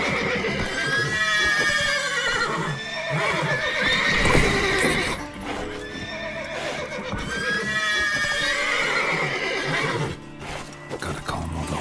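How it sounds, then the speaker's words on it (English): Horses in The Witcher 3 whinny and neigh repeatedly in high, wavering calls over the clatter of hooves, loud and close, with a few shuffling thuds between the cries. "Gotta calm all the horses"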